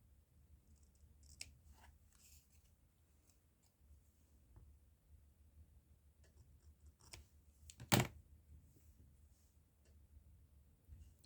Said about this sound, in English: that needs to be trimmed down a bit more